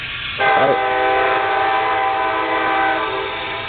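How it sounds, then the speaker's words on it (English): A loud, sustained train horn blares for several seconds, chord-like and steady, with rail rumble underneath. "the train says hello"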